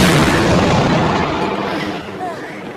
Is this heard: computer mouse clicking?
no